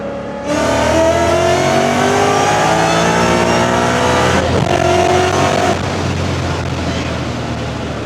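A Mustang's engine revs hard as it accelerates, loud and close, the pitch climbing steadily before easing off, with a faint voice underneath.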